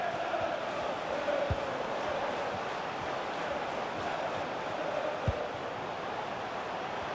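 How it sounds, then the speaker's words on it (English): Stadium crowd in the FIFA 21 football video game, a steady distant roar of massed fans at moderate level with faint swells and a couple of low thumps, no clear talking. "The crowd are up for it."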